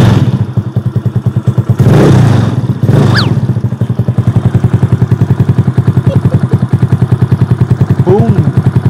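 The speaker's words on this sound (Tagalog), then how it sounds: "sound check natin siya pag walang silencer" Motorcycle fitted with a Sun Racing Cobra exhaust pipe and no silencer, likely a Yamaha Mio Sporty, idling with a fast, loud, steady exhaust pulse, broken by a couple of sharp revs and thumps near the start.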